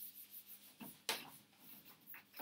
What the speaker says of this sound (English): Okay, I'm going to erase that.